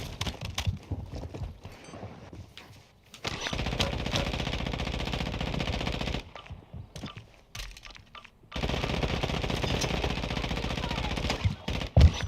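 Automatic gunfire in Call of Duty DMZ, shots fired through walls, loud and dense in two long sustained bursts separated by short pauses, with faint game chatter in the background.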